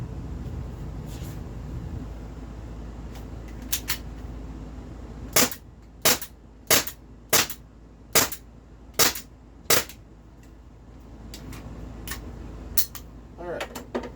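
An Umarex T4E training marker pistol is racked and fired, eight sharp, close cracks in a quick, fairly even string, with softer clicks and handling noise around them and a steady hum underneath.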